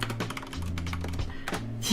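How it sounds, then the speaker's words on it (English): Quick, light clicks of number keys being typed on a computer keyboard come close and steady, with short irregular runs of taps and a low hum beneath. "I was typing numbers"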